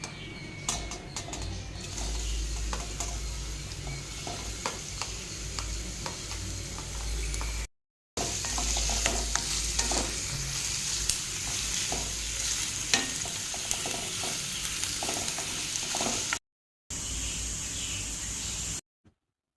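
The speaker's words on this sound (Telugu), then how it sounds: "ఒక కడాయి పెట్టుకుని ఆయిల్ వేసుకుని ఆయిల్ వేడెక్కిన తర్వాత మనం కట్ చేసుకున్న ఉల్లిపాయలు మొత్తం అందులో వేసేద్దాము." Chopped onions frying in hot oil in a kadai, a continuous bright sizzle with occasional stirring scrapes and spatters, steady and close, broken by two short silent gaps.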